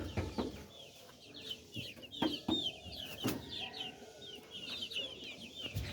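Chickens in a cage cluck and squawk in a busy, overlapping stream of short calls, fairly close, with a few sharper knocks and bumps mixed in.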